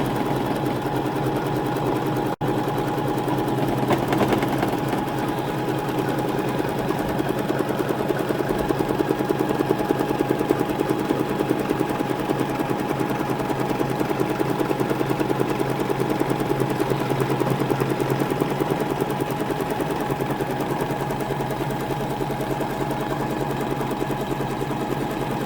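An embroidery machine sews a triple stitch around an in-the-hoop design, producing a steady, fast mechanical chatter with an even rhythmic needle beat that runs unbroken and loud throughout.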